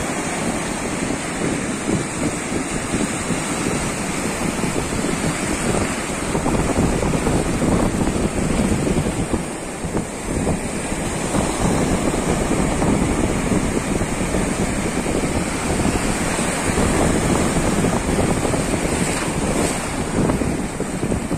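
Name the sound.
sea waves breaking on the shore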